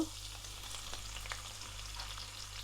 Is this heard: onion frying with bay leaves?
yes